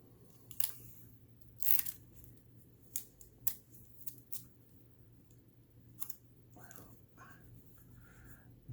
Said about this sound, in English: I'm going to start by tacking it down with some tape here at the top, and then on both sides I'm going to tape it down